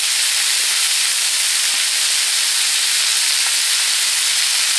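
Water poured into a hot wok while stir-frying baby bok choy gives a loud, continuous steamy hiss and sizzle that stays steady throughout, close and with no talk.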